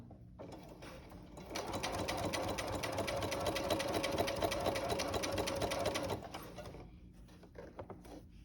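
A sewing machine whirs into a fast, steady stitching run for several seconds, then slows and stops, close and clear.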